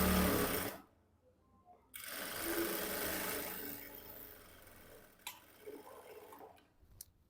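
A sewing machine stitches a blouse in short bursts, a rapid mechanical chatter that stops and restarts with quiet gaps between runs, close and fairly soft.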